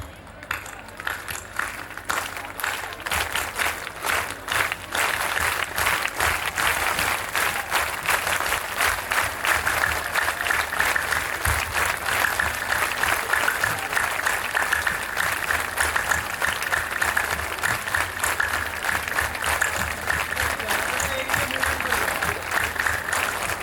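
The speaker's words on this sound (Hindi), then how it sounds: "इसे हम आनंदम ताली कहते हैं। श्री आनंदम धाम की ये ताली है।" Spiritual discourse audience claps the 'Anandam' clap together, a dense, sustained burst of many hands that fills about twenty-three seconds at steady loudness with little pause.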